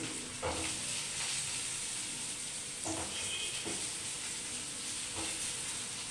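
Onions frying in a pan for a chicken fry, with a steady bright sizzle and hiss and a few soft stirring clunks breaking in now and then.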